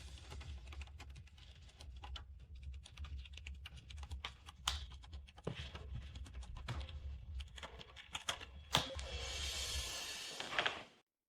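Rapid typing on a computer keyboard while code is written, a dense run of close key clicks with occasional louder taps, ending in a brief burst of hiss.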